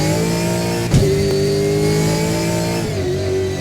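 Gen3 V8 supercar engine in Assetto Corsa, a loud, sustained, throaty drone holding steady revs, with a brief shift blip early on and a dip in pitch near the end.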